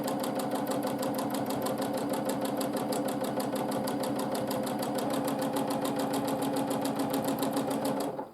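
A sewing machine runs steadily for free motion quilting of swirl arches, its fast, even needle rhythm close and continuous throughout with no pauses, slowing only at the very end.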